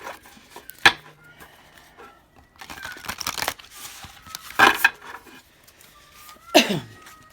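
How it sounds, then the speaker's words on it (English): A deck of playing cards shuffled by hand at close range, heard as a few short papery riffling bursts, with one longer crinkly run in the middle and quiet gaps between them. "And one more shuffle."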